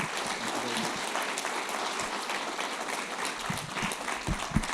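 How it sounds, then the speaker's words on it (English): At a city special recognition ceremony, an audience breaks into a big round of applause, a steady dense wash of many clapping hands held for several seconds. "Let's give them a big round of applause."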